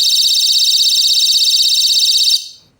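Shrill, rapidly pulsing electronic alarm from an Astrolux E1 EDC flashlight, sounding loud and close for over two seconds before cutting off abruptly.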